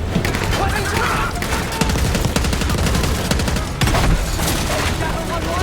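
Heavy gunfire in the video game Call of Duty Black Ops 6: sustained automatic bursts mixed with booms, loud and dense throughout, with game dialogue heard beneath.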